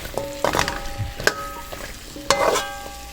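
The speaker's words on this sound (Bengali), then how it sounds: "মশলাটা যখন সুন্দরভাবে কষে আসলো তার তখন সব ডাটাগুলি" Stems of garden vegetables tossed into well-fried spice paste in a pan, with a steady sizzle and a few sharp metal clanks and scrapes as a spoon stirs them.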